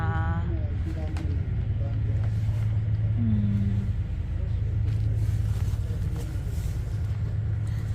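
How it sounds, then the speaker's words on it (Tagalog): Inside a moving train in Italy, a constant low rumble of the carriage rolls on with faint rattles and clicks, while people talk over it. "dito na kami sa loob ng train. Gumagalaw na, umaandar na siya."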